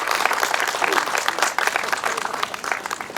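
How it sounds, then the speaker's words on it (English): A crowd applauds for the mayor, Doug Emsley, at a Lori's Place open house, with loud, dense clapping and a few cheers across the whole short stretch. "I want to hear a really loud round of applause for our mayor"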